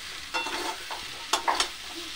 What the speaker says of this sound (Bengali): এইভাবে ভাজা ভাজা করে নিতে হবে